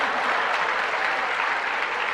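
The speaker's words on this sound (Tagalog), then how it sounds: "Dapat mas malakas ang palakpak dyan." A congregation at a sermon applauds, a steady, dense burst of clapping filling the whole moment with no speech over it.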